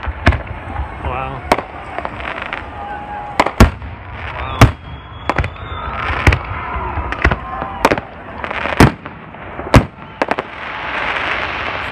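At a July 4th fireworks show, shells burst overhead in a rapid series of sharp, loud bangs and crackles. Some are near and some farther off, while people talk between the blasts.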